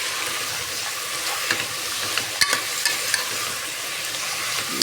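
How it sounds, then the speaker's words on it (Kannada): Fenugreek leaves and green peas frying in a pan for methi rice bath. A constant close sizzle is broken by a few light spatula taps and scrapes, with no speech. "ಅದು ಸ್ವಲ್ಪ ಚೆನ್ನಾಗಿ ಫ್ರೈ ಆಗಲಿ"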